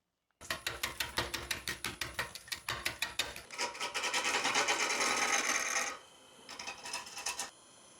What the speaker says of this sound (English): the Hunter Tools roughing gouge is getting a bit of punishment, but it's coming up kind of round